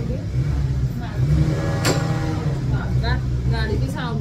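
A vehicle engine revs steadily at mid pitch, with a few brief rising pulls. People talk over it.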